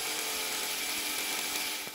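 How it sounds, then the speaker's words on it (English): A power drill boring holes into a floor during a renovation, a continuous bright grinding whine with rough mechanical rattle, steady and close for the whole stretch. "why am I drilling holes in the floor?"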